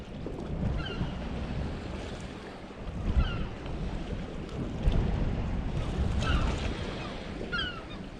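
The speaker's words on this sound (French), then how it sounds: "Il y a du vent là, par contre c'est désagréable" Strong wind roars and buffets steadily against the microphone on a sea shore, with a dull rushing sea underneath and no talking.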